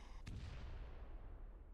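One soft, muffled boom from a video game explosion, a sharp onset followed by a fading low rumble, faint and alone.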